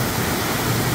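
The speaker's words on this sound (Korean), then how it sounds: "용소에서 떨어지는 두 번째 폭포입니다." A steady, dense roar of falling water comes from a 2–3 m waterfall dropping out of a deep plunge pool in Toegol valley, Paju, heavy with volume and close by.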